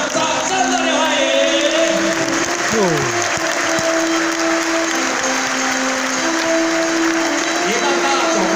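Sustained crowd applause welcomes the association president and guests entering a Yiguandao association 30th anniversary thanksgiving assembly in Taichung. The steady clapping fills the whole span, mixed with background music and voices.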